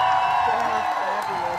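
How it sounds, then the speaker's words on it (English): Audience cheering and whooping in a steady, bright burst that holds loud throughout the short moment, a full crowd sound close up with no gaps. "Oh, cheer for that one."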